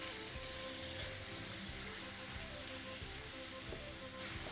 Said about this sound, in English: get those in that hot butter